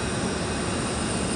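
Steady broadband roar of an airplane at Abdullah International Airport in Jazan at night, a continuous loud rumble with no breaks and no talk.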